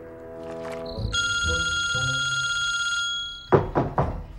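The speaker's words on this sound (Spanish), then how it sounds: "Jaco, tu teléfono no paraba de sonar" A mobile phone rings indoors, one sustained electronic ringing tone lasting about two seconds, preceded by soft tones and followed by a few dull thumps.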